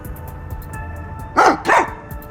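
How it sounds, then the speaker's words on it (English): A dog in the detective game Master Detective Archives: Rain Code gives two sharp barks in quick succession over a faint background hum, with nobody speaking. "The dog has something in her mouth."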